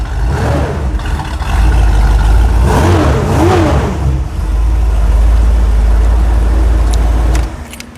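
A hot rod's engine starts up and revs loudly and close by, holding a strong, steady rumble with a few throttle blips before cutting off near the end.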